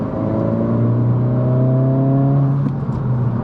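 Engine of a 2022 Honda Civic Si under throttle, a loud steady droning hum with layered tonal whine that holds level, then drops off near the end, close and without talk.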